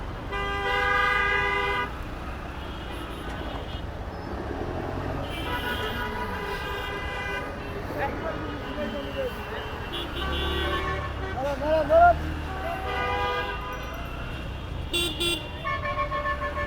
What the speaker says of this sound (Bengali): আসলে অস্বাভাবিক একটা জ্যাম পড়ছে